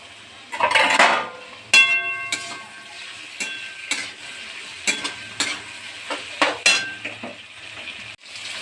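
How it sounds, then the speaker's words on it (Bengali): Chopped tomato goes into frying mutton with a sharp hiss, then a spatula scrapes and clinks against the pan in a steady rhythm of stirring strokes over a soft sizzle. "ভাজা হয়ে গিয়েছে, এবার দেব টমেটো কুচি।"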